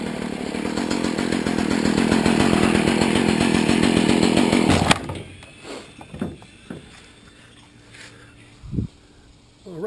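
STIHL FS 40C gas weed whacker engine running loud and steady with a chainsaw-like drone for about five seconds, then cutting off abruptly, leaving quieter scattered handling noises.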